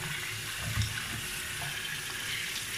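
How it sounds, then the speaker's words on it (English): Cold tap water streams over cooked halušky, a steady, even splashing rush at moderate level with one slightly fuller surge early on and no voices. "Give it a shower of cold water."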